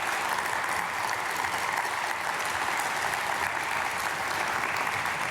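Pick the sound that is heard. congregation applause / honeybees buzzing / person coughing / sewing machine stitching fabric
congregation applause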